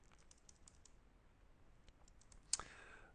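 A single sharp, close computer mouse click stands out after a stretch of faint, quiet ticking from a keyboard.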